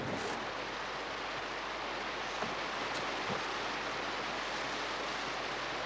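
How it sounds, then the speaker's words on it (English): A waterfall on a rugged river in the Kimberley, heard as a steady, broadband roar of falling and rushing water, constant and unbroken throughout. "This waterfall must be bypassed."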